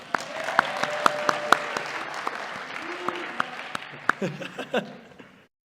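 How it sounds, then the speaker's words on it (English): Audience applause rings out at the 2025 BMB Awards for a nominee, a steady wash of clapping with sharper individual claps and a voice speaking over it before it thins and fades out. "clap it up for him real quick"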